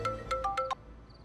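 A phone rings for an incoming call with a short melodic ringtone of bright, quick notes that rise and fall. It is moderately quiet and heard alone for just over a second.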